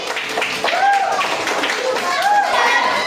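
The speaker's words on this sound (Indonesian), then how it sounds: "Tepuk tangan dong." Students in a classroom clap their hands together, a busy patter of claps running throughout with a voice speaking over it.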